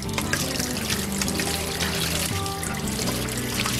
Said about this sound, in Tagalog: pagbukas mo lang, nakaready na may tubig na